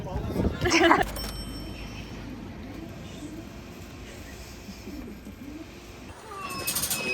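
A cat meows a few times, soft and drawn out, over a steady background hum with faint murmuring voices aboard a cruise ship.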